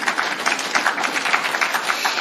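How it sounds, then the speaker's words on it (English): Applause from an audience at a courtroom address: a steady, moderately loud patter of many hands clapping together, continuous and even throughout. "I think you need to applaud that."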